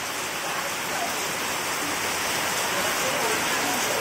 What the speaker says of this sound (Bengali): বৃষ্টি আর থামে না,